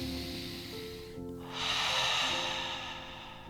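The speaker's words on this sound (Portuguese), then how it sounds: "puxe uma respiração" A person draws one long, deep breath in, a steady airy rush that swells and holds for about two seconds over a faint background hum.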